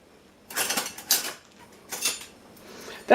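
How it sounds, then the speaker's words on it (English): A tomato knife slicing a chocolate swirl dessert into pieces, with several distinct cutting strokes scraping through and tapping the dish, separated by short pauses, close and fairly loud. "I'm going to cut it in half, and then cut each one into 3 pieces"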